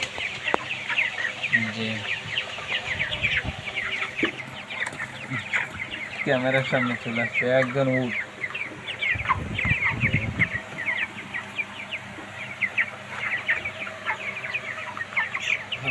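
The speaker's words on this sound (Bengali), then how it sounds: "মুরগি দেখুন" Broiler chickens cluck nearby in short repeated bursts among ongoing background chatter and rustling, with a person talking over them at times.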